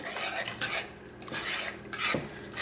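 Spoon stirring cauliflower pizza sauce in a pan, with garlic salt added, melting down: a steady scraping and clinking of utensil against cookware, close and moderately loud, with no talking.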